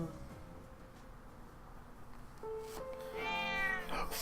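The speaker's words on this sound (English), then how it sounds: "Meow! Oh, looks like we found our mother." A cat meows in Trails of Cold Steel 2, a short rising cry near the end over quiet game ambience.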